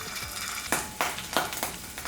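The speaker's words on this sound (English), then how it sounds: "Just gonna heat up a little bit of oil to give my rice a shallow pan fry." A little oil heats in a pan for a shallow fry of pressed rice sushi bites, giving a soft, low crackle punctuated by a few brief bursts of sizzle, quiet and close.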